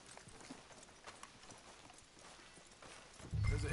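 Horse hooves clip-clop at a steady walking pace in Red Dead Redemption 2, fairly soft, with a low rumble swelling near the end.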